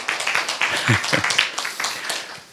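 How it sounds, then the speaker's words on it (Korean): An audience at a Korean science talk claps, with a burst of uneven claps mixed with voices that fades into scattered clapping. "어머니 박수 한번 다시 쳐주세요."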